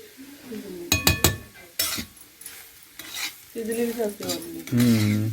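A metal spatula scrapes and clinks against a griddle in quick strokes while stirring young jackfruit curry cooked over a wood-fired stove, with a soft sizzle underneath and brief speech toward the end.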